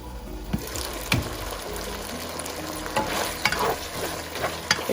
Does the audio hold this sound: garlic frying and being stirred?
yes